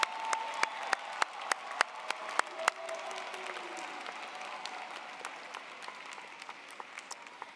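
Sparse applause for new Master of Education graduates at a university commencement, with a few distinct loud claps early on, then a soft, steady patter of clapping that fades over several seconds.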